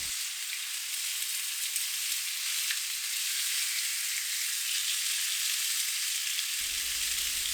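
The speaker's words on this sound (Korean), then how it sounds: "새우를 넣고 구워요. 마늘이 새우에 골고루 붙을 수 있도록 살살 뒤집어가며 잘 구워요." Shrimp sizzle steadily in a pan with garlic, a close, even crackle of frying that holds at a constant level throughout, with no talking.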